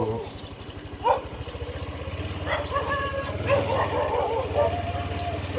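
Dogs barking and yipping as they chase, several short barks and whimpers at mid distance outdoors on a cold morning, with someone talking over them and a faint engine hum.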